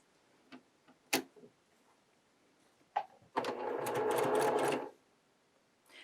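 A sewing machine stitches patchwork pieces with a scant quarter-inch seam, heard as a close, rapid mechanical whir lasting about a second and a half. Scattered clicks and handling taps come before it.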